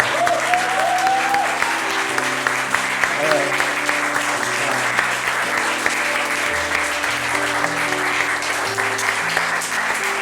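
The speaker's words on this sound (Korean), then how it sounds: "박수 치면 그냥 치던가." A church congregation at a Wednesday worship service in Daejeon applauds steadily for about ten seconds. The clapping is dense and sustained, with a low hum and scattered voices underneath.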